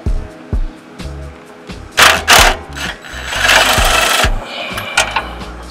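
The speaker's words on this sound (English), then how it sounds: "we're just gonna use the impact" An impact wrench removes front brake caliper bolts on a 1999–2006 2WD GMC Sierra or Chevy Silverado truck, firing a couple of short hammering bursts followed by a longer loud rattling run, close by.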